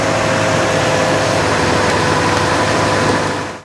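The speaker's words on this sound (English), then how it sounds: "this had no problem at all starting that Toyota Tundra with a dead battery" A Toyota Tundra truck engine idling just after a jump start from a dead battery, a steady, loud, even rumble close by with no talk, cutting off at the end.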